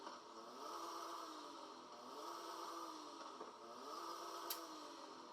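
Nissan Z engine in Forza Horizon 5 racing game, a quiet steady engine hum rising and falling in pitch across several gentle revs, no talk.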